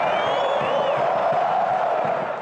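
A large football stadium crowd at a Londrina versus Vasco Série B match in 2016 applauds and cheers the losing home team, a dense, loud, continuous roar with whistles over it.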